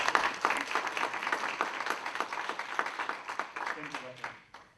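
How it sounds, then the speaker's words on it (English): A seminar audience at Cornell applauds steadily, a dense wash of many hands clapping close and loud for several seconds before tapering off at the end. "Can we give a big Cornell round of applause to open?"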